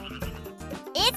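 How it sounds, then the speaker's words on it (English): A cartoon frog croaks several times in a rhythmic, voiced series, with a rising squeaky call at the end. "It's the sound of a jumping frog!"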